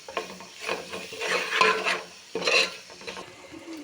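Spoon stirring biryani masala into cooking mutton in a pot, with scraping and soft sizzle in repeated strokes, moderately close, no talking.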